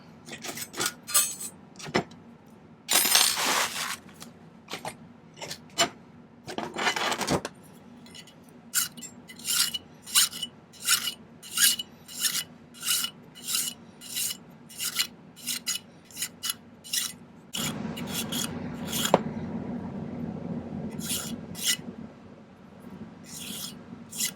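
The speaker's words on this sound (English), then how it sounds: "We'll do a little cleanup filing." A metal file rasps over a silver ring in a run of quick, rhythmic scraping strokes, close and fairly loud, broken by short pauses and a few handling clinks.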